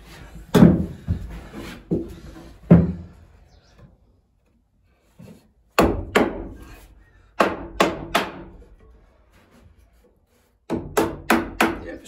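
Sharp, hard hammer blows on a narrowboat roof strike in irregular bursts of two to four hits, separated by pauses, fairly close and loud.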